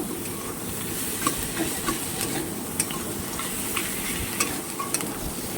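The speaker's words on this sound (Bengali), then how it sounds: "এভাবে পুরো ভেজে নিতে হবে ভালো করে" Fish head and onions fry in a pan for a gourd dish, crackling with a steady sizzle while a utensil scrapes and taps in an irregular stirring rhythm. The sound is close and moderately loud, with no voices.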